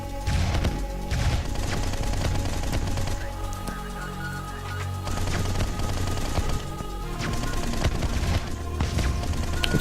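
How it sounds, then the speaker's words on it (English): Dense, continuous gunfire from a twin-stick robot shooter game, a rapid hail of bullets with booming impacts and crashes running nearly without pause, loud throughout. "We can just throw down a hellfire of bullets now."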